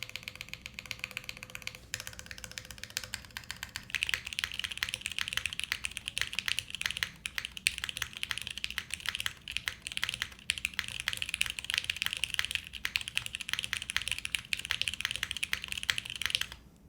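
Rapid, continuous typing on a plateless, PCB-mounted leaf-spring 60% keyboard, with dense crisp key clacks close to the mic and no talking.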